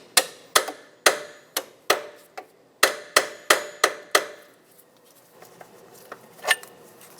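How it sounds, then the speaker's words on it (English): A hammer taps strut bolts out of the steering knuckle on a Mazda 6, about a dozen sharp metallic knocks in a quick uneven rhythm, then quieter handling clatter. "Tap the bolts out."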